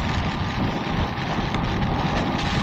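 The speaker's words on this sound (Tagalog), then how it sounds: "Lakas na yung ulan, malakas pa yung hangin." Strong wind and heavy rain roar steadily during a motorcycle ride through a storm, a dense continuous rush of buffeting noise with no letup.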